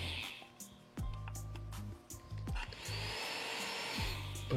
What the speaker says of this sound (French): On peut alimenter cette ventilo de PC qui souffle.